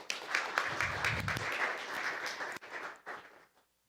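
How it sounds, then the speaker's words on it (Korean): Congregation applause at a Sunday church service welcoming the pastor, a steady spread of clapping from many hands that thins out and stops near the end. "우리 목사님 나와서 말씀 전해 주실 때 우리 환영하는 의미로 박수로 맞이하겠습니다."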